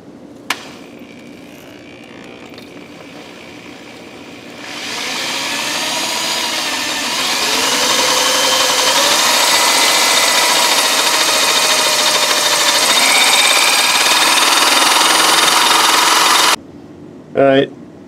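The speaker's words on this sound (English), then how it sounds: "go ahead and drill." A power drill starts after a quiet moment and grinds steadily into a metal engine block for over ten seconds, loud and close, then stops abruptly.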